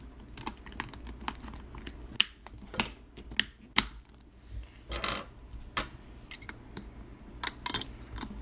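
Plastic GoPro curved mount snapping into a mount on a Scorpion EXO-R410 motorcycle helmet: a string of sharp, close clicks and taps spaced irregularly over several seconds, with no talking.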